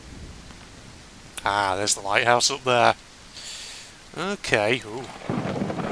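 Thunder rolls through a stormy island scene in the video game Eilean Mor: The Lost Keepers, a soft broadband rumble swelling midway beneath a man's brief spoken reactions.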